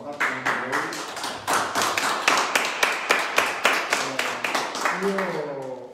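Audience at an Italian sports talk with the president of Sport Around the World claps in steady rhythmic applause, loud and close, with some voices calling out over it.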